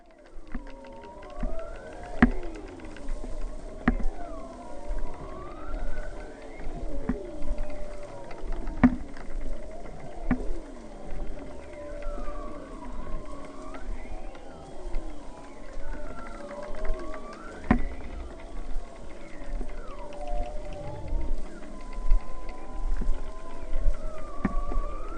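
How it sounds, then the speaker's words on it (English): Beluga whale calls recorded underwater in the Bering Sea: a dense chorus of rising and falling whistles, squeals and sharp clicks, continuous and fairly close, with no talk. "here's a beluga whale call."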